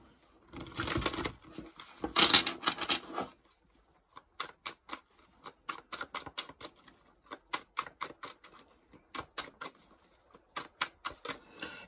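Tarot cards from the Fountain deck are shuffled in quick, crisp riffling bursts, with a longer run of rapid clicks and then a steady series of sharp snaps, close by and fairly quiet.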